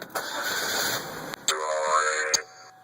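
A car engine cranks and starts, with a steady whirring tone that breaks off partway and resumes with a different electronic hum, ending in a brief click; no speech over it.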